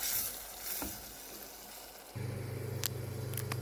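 Chopped onion with mashed garlic and green pepper frying in a pan, a soft steady sizzle that turns into a louder continuous hiss partway through, with a few faint clinks.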